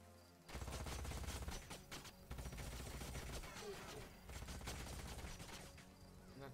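Gunfire in Age of Wonders: Planetfall, a dense, sustained volley of rapid shots and crackling blasts that fills several seconds over a layered battle ambience.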